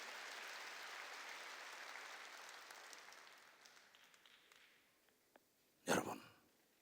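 Congregation clapping in a Korean church worship service, a broad wash of applause that gradually fades over several seconds, followed by a brief sharp vocal burst near the end.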